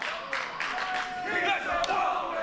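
A wrestling crowd at an NCL.23 event roars and shouts in a continuous broad wash of cheering, with scattered yells rising above the din throughout.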